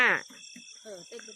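Crickets chirp at night in a steady, high, continuous drone that runs under close voices of an adult and someone talking.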